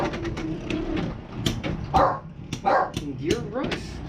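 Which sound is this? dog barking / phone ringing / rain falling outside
dog barking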